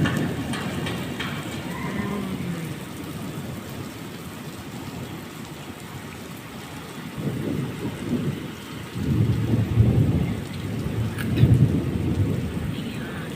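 The first rain in Qatar falls steadily, with rumbling thunder that swells in heavy low bursts toward the end, loud and close, with no talking.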